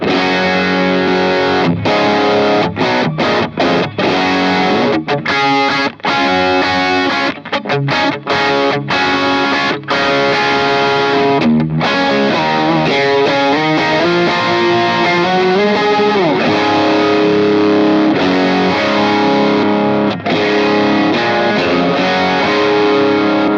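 An electric guitar runs through a drive pedal with a boost stacked on top, giving loud, saturated distorted chords and riffs. The tone stays thick and sustained throughout, with brief choppy breaks between strummed phrases.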